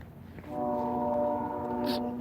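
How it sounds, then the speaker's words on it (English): A boat horn sounds far off across the water at sunrise, one long steady blast that starts softly and holds at an even level to the end. "the boat confirmed it in the distance. See, they honked it."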